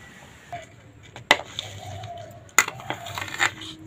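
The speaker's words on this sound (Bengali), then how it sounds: "আমি শিলেতে বেটে নিচ্ছি, চাইলে আপনারা মিক্সিতেও বেটে নিতে পারেন।" Coriander leaves, green chili and raisins are crushed on a flat grinding stone, with a few sharp stone knocks and short gritty scrapes close by against a quiet background.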